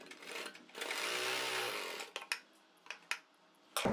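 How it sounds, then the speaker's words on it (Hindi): A sewing machine stitches a folded fabric neck piece in a short, faint run of about a second, followed by scattered light clicks and handling taps. "ऐसे करके यहाँ तक अपनी सिलाई को कंप्लीट कर देंगे।"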